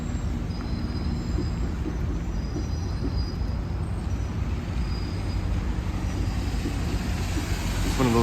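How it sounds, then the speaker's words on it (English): A long 12-car GO Transit Lakeshore West commuter train rumbles steadily past in the rain on its way to Union Station, a continuous loud low roar with no breaks. "And we see a GO train passing by."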